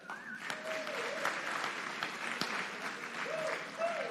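A crowd at a live youth-vote rally at Norfolk State claps together in a sustained, fairly distant round of applause, with a few faint voices and whoops mixed in.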